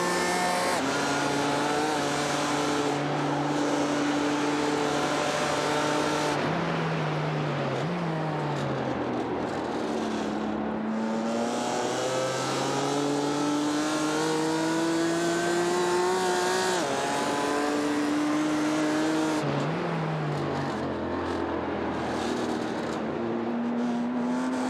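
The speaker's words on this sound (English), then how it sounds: "on the straight, the BMW has the advantage and just repassed the Porsche Cayman." BMW and Porsche Cayman SP10-class race cars in a sim racing game roar continuously, engine notes rising through the gears with shifts and drops, two cars battling closely, loud and steady with no talk.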